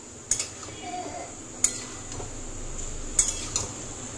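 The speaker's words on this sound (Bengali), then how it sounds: "এখানে কুমড়ো, বেগুন আর ডাঁটা কাটছি আর কি" Vegetables being chopped in a home kitchen, pumpkin, eggplant and stems cut on a board, giving a few sharp knife taps spaced a second or more apart over a low steady background hum.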